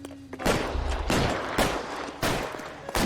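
Bursts of loud gunfire crack out in quick succession in L.A. Noire, several sharp shots with noisy, echoing tails, sounding like game combat audio.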